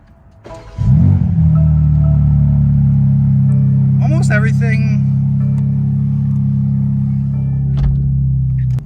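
A 2023 BMW M4 CSL engine cranks and fires with a sharp bark, then settles into a loud, steady idle rumble that runs to the end, with a brief mechanical chirp partway through.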